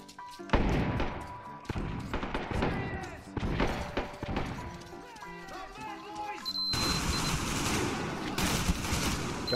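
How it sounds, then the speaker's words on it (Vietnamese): Enemy bandits fire guns at close range during a fight inside a cinema in the video game Metro Exodus, Sam's Story. Sharp shots and rapid bursts repeat across the stretch, with voices mixed in and denser sustained fire near the end. "tụi nó bắn bậy kìa các bạn"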